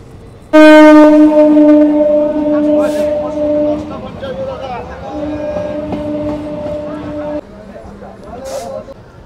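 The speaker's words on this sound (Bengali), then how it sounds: "2 মিনিট দাঁড়িয়ে আমার ট্রেন ছেড়ে দিল নবদ্বীপ ধাম রেলওয়ে স্টেশন থেকে।" The 13177 Jangipur Road Express pulls out of Nabadwip Dham railway station, sounding a loud, sustained multi-tone horn in long blasts over the rumble and clatter of the moving carriages.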